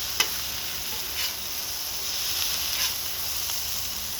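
Cheesy mushroom tortellini sizzle on an outdoor griddle at night, giving a steady close hiss with a few faint pops and ticks and no talking.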